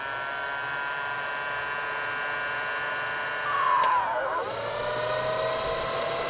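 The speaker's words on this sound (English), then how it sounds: "Once we grab our trusty heat gun to validate that the unit is active" A heat gun blows onto a computer system fitted with a fan controller, a steady whooshing hiss with a faint tonal whine that briefly swells louder, heard close and alone without speech.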